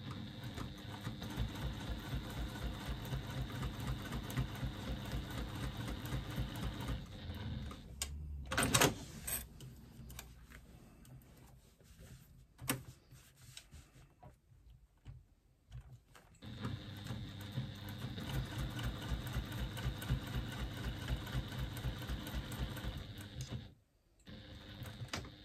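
Sewing machine running in long steady bursts as it top stitches two lines along a bag's side gusset, with brief pauses and a short quiet stretch midway before the mechanical whirring resumes close by.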